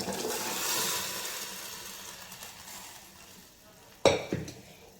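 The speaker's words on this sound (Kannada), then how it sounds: "ನೋಡಿ, ಎಷ್ಟು ಚೆನ್ನಾಗಿ ಕುದೀತಾ ಇದೆ." A pot of wedding-style sambar with cooked lentils bubbles at a boil, a soft steady churning hiss that fades slightly, then sharp clanks of a ladle or lid against the pot break in near the end.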